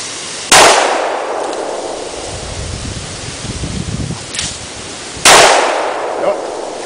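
A revolver sixgun fired outdoors, two sharp, loud shots a few seconds apart, each followed by a long rustling decay. A fainter crackle falls between them.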